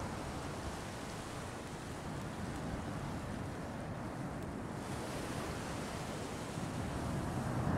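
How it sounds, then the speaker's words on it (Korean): Ocean surf at Gyeongpodae beach in Gangneung, a steady broad roar of breaking waves with wind buffeting the microphone, constant and loud throughout, swelling slightly toward the end, no voices. "파도 소리 듣고 있었어요."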